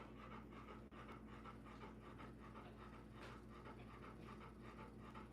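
A dog pants rapidly and steadily, quick rhythmic breaths over a low hum, faint but continuous.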